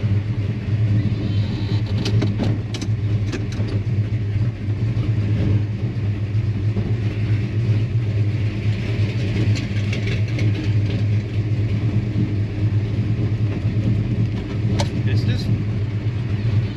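A carbureted V8 on a tunnel ram intake with twin Edelbrock VRS-4150 carburetors runs with a steady, loud low rumble that holds fairly even with small surges, close up.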